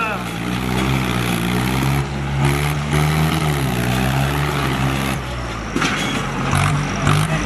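A homemade Swaraj 855 model tractor's engine runs steadily during a stunt outdoors, a loud continuous droning motor that dips briefly a couple of times, with shouting voices around it.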